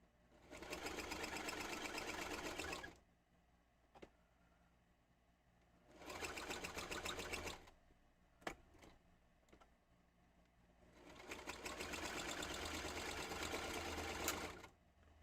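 Sewing machine stitching a rectangle in three sustained whirring runs, with brief ticks and small clicks in the quiet gaps between them as the fabric is turned, close and with no talk.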